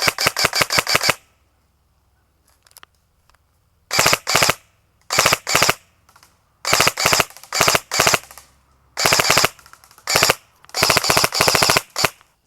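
An ASG Scorpion Evo airsoft gun fires loud, close, rapid bursts of sharp cracks, broken by short silent pauses and a few quieter mechanical clicks between strings of shots.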